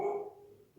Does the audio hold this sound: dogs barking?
yes